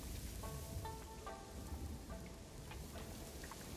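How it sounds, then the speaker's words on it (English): Steady rain storm in a video game, a dense continuous hiss of rainfall with scattered droplet ticks, fairly soft and even throughout with no talk. "Oh, I think a storm is coming in."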